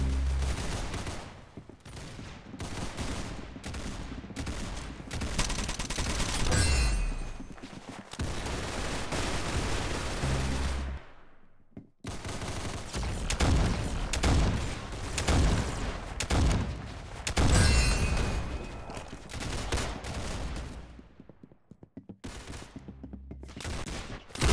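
Rapid bursts of gunfire from the Roblox shooter game Arsenal, with dense volleys of shots and booms running almost continuously, briefly dropping away near the middle before resuming loud and close.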